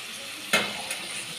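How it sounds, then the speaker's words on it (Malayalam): Chilli chicken stirred and frying in a pan: a soft steady sizzle with one sharp scrape of the spoon midway and a lighter touch after, close and alone. "നമുക്ക് ഇളക്കി കൊടുക്കാം"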